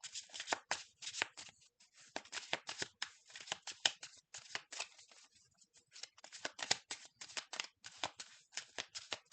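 Tarot cards are shuffled by hand, producing quick crisp riffles and soft flutters in repeated short bursts, close and quiet.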